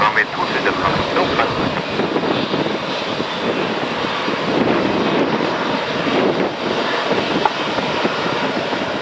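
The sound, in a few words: passenger airliner departing Düsseldorf Airport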